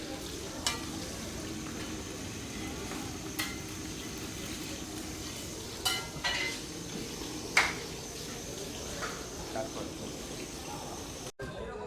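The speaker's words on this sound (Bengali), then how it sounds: "ইলিশ মাছ ভাজা প্রায় শেষ," Padma hilsa fish fries at Mawa ghat in a continuous crackling sizzle, broken by scattered clinks of utensils against the pan, while people talk nearby.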